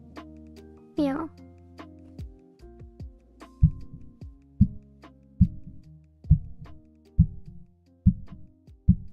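A heartbeat sound effect on the player character in an indie video game: after a brief tonal sweep, low thumps repeat at an even pace about once a second, roughly seven beats.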